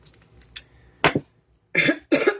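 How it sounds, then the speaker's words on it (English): Several sharp coughs close to the microphone, a couple of small ones early and two louder, harsher bursts at the end, separated by silence. "Oh, goodness, I keep coughing, guys."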